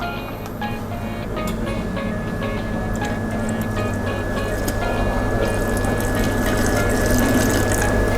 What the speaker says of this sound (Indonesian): Nah, bahan cairan masuk, kita sisakan sedikit untuk melihat penyerapan air dalam tepung.